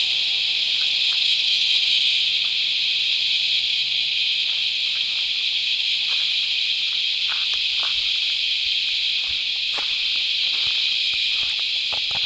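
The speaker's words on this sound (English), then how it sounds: "Deafened by the cicada beetles." Loud cicadas shrill in a steady, unbroken high drone along a descending road toward the tablelands in Australia, with faint rustling and small clicks underneath.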